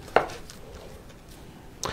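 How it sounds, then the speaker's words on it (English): A knife chops through potatoes on a cutting board, giving two sharp, close strikes, one near the start and one at the end, separated by a quiet stretch of low kitchen background. "Cut it in half, then cut it in half again."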